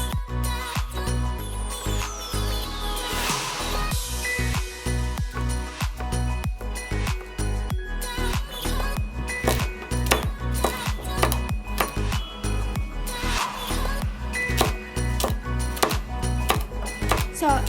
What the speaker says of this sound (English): stand up the slice and I think you can easily cut the slice into chunks